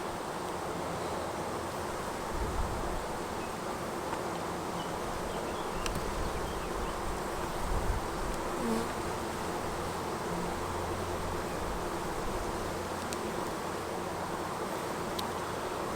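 Honeybees buzz continuously in a dense, steady drone, close by inside an opened polystyrene hive, with occasional faint clicks and bumps.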